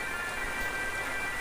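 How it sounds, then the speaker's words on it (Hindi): Steady rain falls on farm fields in rural Uttarakhand during the monsoon, a dense even hiss with no break and no voices. "बारिश भी हो रही है और धीरे धीरे करके बारिश बढ़ती जा रही है"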